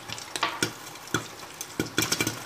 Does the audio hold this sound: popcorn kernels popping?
yes